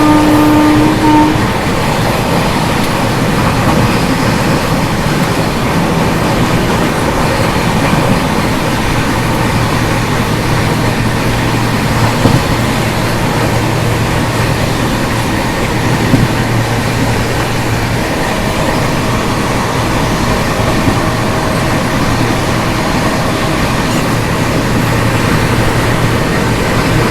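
The 12780 Goa Express runs at speed, heard from inside a first-class AC coach as a loud, continuous rumble and rattle of wheels on track, steady throughout with no talk.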